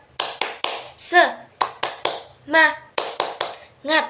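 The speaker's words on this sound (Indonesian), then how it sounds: "Biar lebih semangat lagi, kasih tepuk semangat yuk" A classroom of children does a rhythmic clapping chant in an Indonesian school lesson, sharp claps in a patterned beat mixed with chanted voices and a teacher's voice, close and lively.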